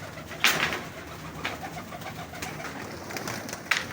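Pigeons coo in soft, repeated throaty calls, with a few sharper bursts of wing or bird activity standing out against a steady background hum; no one speaks.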